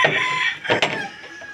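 Chickens cluck nearby in a short burst, with a rooster-like cry rising briefly in the middle.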